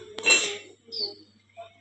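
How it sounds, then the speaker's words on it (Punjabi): Washed steel dishes set down on a rack to dry, one sharp clatter followed by a couple of lighter clinks, close and brief. "ਮੈਂ ਇੱਥੇ ਜਿਹੜੇ ਭਾਂਡੇ ਧੋ ਕੇ ਇੱਥੇ ਰੱਖ ਦਿੰਨੀ ਹੁੰਨੀ ਆ"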